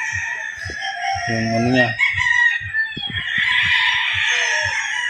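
Pure white fighting rooster crowing close by in a conditioning pen, one drawn-out crow amid clucks and other birds, with people talking in Filipino.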